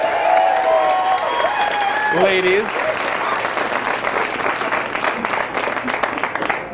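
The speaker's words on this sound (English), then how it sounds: "please give a big round of applause to Mr. Lars Classington right over here" Studio audience applause at a London talk show, a dense, loud wash of clapping that carries on steadily throughout while a host speaks over the start.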